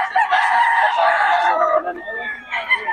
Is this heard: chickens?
yes